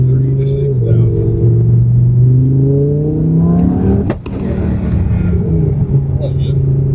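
A tuned twin-turbo Audi R8 engine revs up through third gear from about 3,000 to 6,000 rpm, its loud rising drone climbing steadily before a sharp cut and a lower rumble settling back in.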